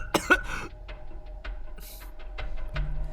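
A man coughing in a café, a few harsh close coughs at the start followed by rasping, gasping breaths and softer fits over low room noise.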